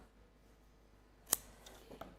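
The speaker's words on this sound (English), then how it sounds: "And if not, just use your scissors." A single crisp snip of scissors cutting paper during a card-making craft session, sharp and close against near silence, followed by a few faint rustles of handling.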